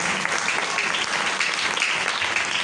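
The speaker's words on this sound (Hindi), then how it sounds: "आए अपने वादों वाले खुदा के लिए जोरदार ताली बजाएंगे।" A church congregation breaks into loud, dense applause, a continuous wash of many hands clapping close and strong throughout, with no speech over it.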